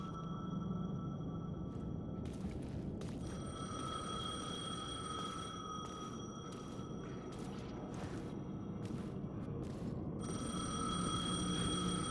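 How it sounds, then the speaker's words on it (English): A payphone rings in the video game Alan Wake 2, its repeated electronic trill pulsing in bursts over a dark, rumbling ambient drone, fairly loud and steady throughout. "The payphone was ringing."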